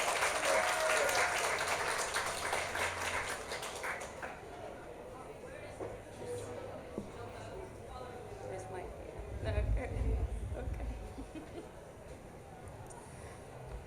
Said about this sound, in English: let's receive them with a huge round of applause, please